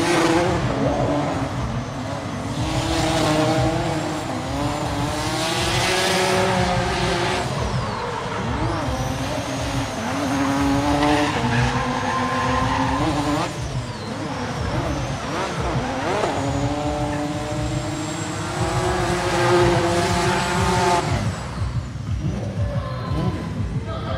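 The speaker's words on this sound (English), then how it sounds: "next driver now from Italy, Manuel Vacca on his second run in the BMW." A BMW drift car at an international drifting competition qualifying run, engine revving hard and steady with rising and falling pitch and tire noise throughout, loud and continuous under a commentator's voice.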